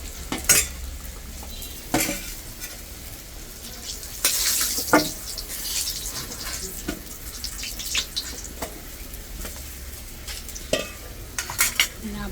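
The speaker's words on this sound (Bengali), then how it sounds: "মাছগুলি অনেক লাল লাল করে কড়া করে ভাজছে।" Rui fish frying in a pan, a steady crackling sizzle with scattered sharp utensil clinks and scrapes throughout, close and fairly loud with no talking.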